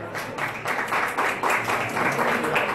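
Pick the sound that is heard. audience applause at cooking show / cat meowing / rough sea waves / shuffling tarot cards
audience applause at cooking show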